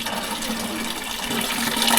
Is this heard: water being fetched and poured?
yes